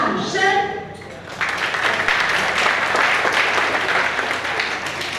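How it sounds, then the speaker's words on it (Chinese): Audience applause at a summer camp results presentation and certificate-of-thanks ceremony, a steady dense clapping that swells after a brief opening and fills the hall without a break. "来，我们掌声。"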